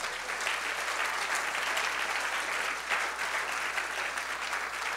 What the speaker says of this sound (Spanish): Dele el aplauso a Cristo.